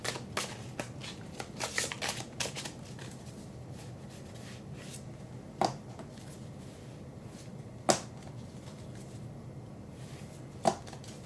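Wildwood Tarot cards being shuffled by hand, a dense flurry of riffling and slapping in the first few seconds, then quieter handling with a few sharp isolated taps and snaps.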